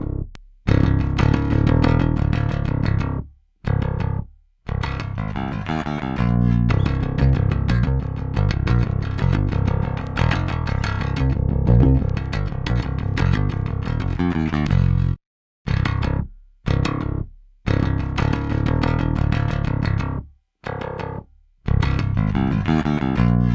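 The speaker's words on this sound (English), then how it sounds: "let's check out these crushing bass tones isolated and finally" Crushing distorted rock and metal bass guitar tones from amp-simulation plugins, loud and dense, played in heavy chugging phrases with abrupt stops and short silent gaps between riffs, no voices.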